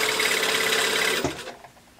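A sewing machine runs a regular straight stitch along a pencil skirt seam with a steady close whir, then slows and stops about halfway through, leaving quiet room sound.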